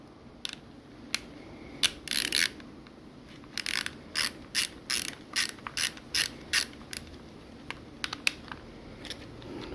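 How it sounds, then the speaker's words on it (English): A ratchet socket undoes hex head bolts on an Onga LTP750 pool pump, with repeated sharp bursts of rapid clicking separated by short pauses, close and fairly loud. "Just undo these hex heads,"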